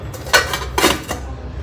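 Small serving-bowl lids used for puja clink and clatter as they are handled, producing three quick, close metallic taps with nobody talking.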